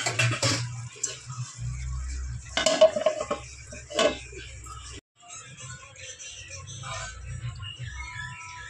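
A metal lid clanks onto a cooking pot of chicken liver curry with potatoes, a few sharp close knocks and rattles between stirring and light scraping sounds, with a quieter stretch afterward.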